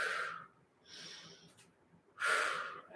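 Deep breaths during a golf warm-up exercise, a strong airy exhale, a softer intake, then another forceful breath out, close and clear with no talk.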